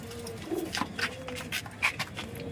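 Teddy pigeons, a kept flying breed, coo in short soft bursts, several calls spread across a few seconds over a faint steady background, fairly close.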